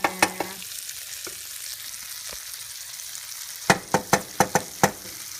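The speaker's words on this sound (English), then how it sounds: "I will add the marinara." Onion sizzles steadily in a hot frying pan as marinara sauce goes in, with a few sharp clinks near the start and a quick run of utensil knocks toward the end.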